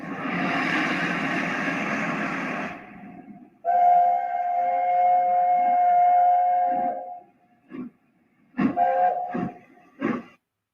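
A heavy LNER Class P2 steam locomotive rumbles loudly, then sounds a long, steady Crosby chime whistle, followed by several short whistle blasts with chuffing in between.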